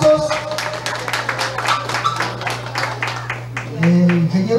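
Crowd applause at a rural inauguration of three new classrooms in Caserío Tuixcum, Tajumulco, San Marcos: a sustained spread of clapping over a steady electrical hum, swelling louder near the end as a voice comes in.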